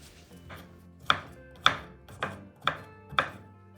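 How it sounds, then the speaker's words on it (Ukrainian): A knife chops cucumber into small cubes on a cutting board, five crisp close strikes in an even rhythm after a couple of softer taps, with no voices. "Огірки я наріжу невеличкими кубиками."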